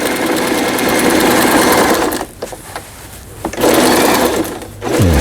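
A Janome home sewing machine stitches after repair in fast, close mechanical whirring runs, pausing briefly in the middle with a few isolated clicks before stitching resumes.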